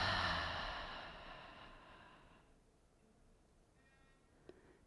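A long, soft exhale as the body eases into a yoga side bend, breathy and fading over about two seconds, close and gentle, followed by near silence and a faint tick.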